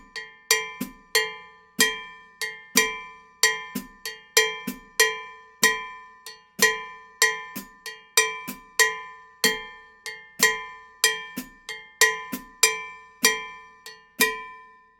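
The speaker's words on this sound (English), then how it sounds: "in the bembe, a bell pattern is played by either a cowbell player or a hoe blade player, if a cowbell was not available" Cowbell playing the Afro-Cuban bembe 6/8 bell pattern, a steady, repeating cycle of bright, ringing metallic strikes with accented hits, heard alone and close.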